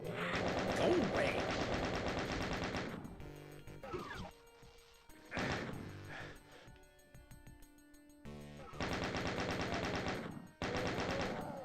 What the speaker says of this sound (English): Damn chain gunners, man.